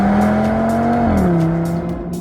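A 2025 Audi RS3 Carbon Vorsprung with the 2.5 TFSI five-cylinder accelerates hard in sport mode. The loud engine note climbs, drops sharply at an upshift, then pulls again, heard close up with no talking.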